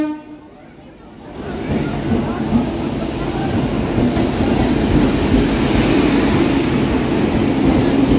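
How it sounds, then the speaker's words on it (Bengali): A train pulls in at a railway platform, its low rumble and wheel clatter swelling from quiet to a loud, sustained roar nearby, with voices faintly mixed in. "আমাদের ট্রেন চলে এসেছে"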